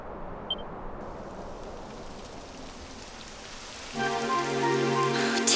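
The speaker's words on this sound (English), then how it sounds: "It would have to go and start raining, wouldn't it?" Rain begins falling in the video game Dragon Quest XI, a soft steady hiss of drops that grows, with a brief beep near the start and a tonal musical chime rising in the last seconds.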